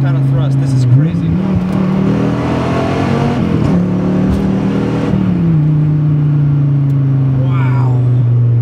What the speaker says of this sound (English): I could go to second gear right now, which I probably will, and watch this kind of thrust.